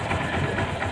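A B125 motorcycle engine idles after a repair that replaced the connecting rod and two bearings. It gives a steady, close mechanical hum with a light rhythmic knock and vibration and no voices.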